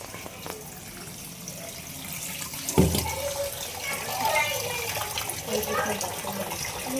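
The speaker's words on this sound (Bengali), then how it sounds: "দাঁড়াও একটু ফ্রেশ করে ধুয়ে নিই" Running tap water splashes steadily over freshly cut crab pieces in a kitchen sink, a continuous close rush with slight surges as the pieces are turned, and no talk over it.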